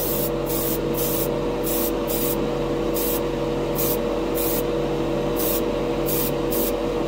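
An airbrush sprays Golden High Flow metallic acrylic paint onto a plain plastic spoon, giving a close, continuous hiss broken by rapid on-off bursts of spray in an irregular rhythm, with no voices.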